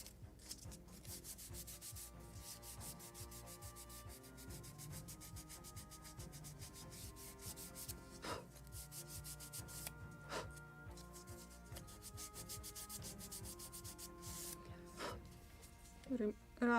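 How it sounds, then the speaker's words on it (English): Sanding and polishing of wooden planking on a Model Shipways kit of the 1776 gunboat Philadelphia, a steady close rubbing scrape that continues throughout over a constant tonal background, with a few brief louder knocks. "Polishing, removing all these traces of tools"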